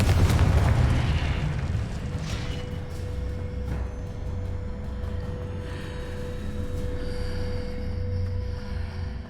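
Confringo fire spell blast in the Hogwarts Legacy video game: a loud, booming explosion at the start that fades into a rumbling, crackling tail with steady low ambient drone and a thin sustained tone.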